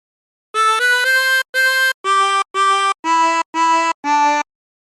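A harmonica plays a phrase of Turkey in the Straw with nine short, clean notes in even rhythm, alternating blow and draw, each note separated by brief gaps, close and alone.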